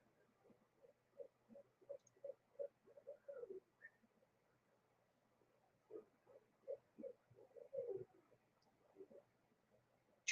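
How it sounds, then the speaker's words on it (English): An owl hoots softly in two rhythmic bouts of low, evenly spaced calls, distant and faint against a quiet background. "Did you guys hear the owl?"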